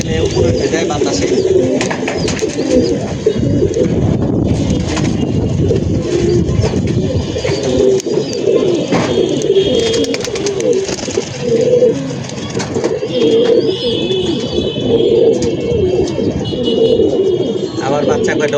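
Pigeons cooing and calling steadily throughout, with wind blowing and a voice talking over them outdoors while young birds fly overhead.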